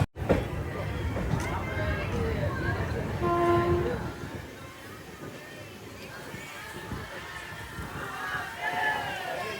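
Amrit Bharat Express train pulling away from a station on its inaugural run, a steady rumbling rail noise with crowd chatter and voices throughout, a brief louder swell midway.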